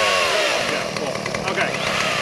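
A chainsaw runs steadily and loudly close by at an outdoor Gluetread demo at Mount Carmel, its engine drone continuous beneath overlapping voices.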